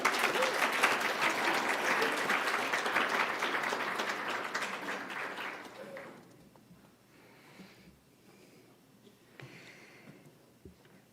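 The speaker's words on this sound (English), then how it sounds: "Another round of applause for this group." An audience at an annual scholarship celebration applauds for about six seconds, a dense full round of clapping that then drops to a quiet room with faint murmurs.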